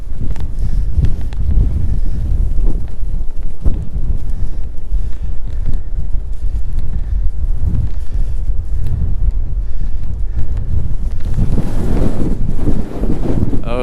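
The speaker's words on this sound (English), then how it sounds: "Oh, this wind." Strong wind buffets the microphone on high sea cliffs in the Faroe Islands, a loud continuous roar with gusts throughout.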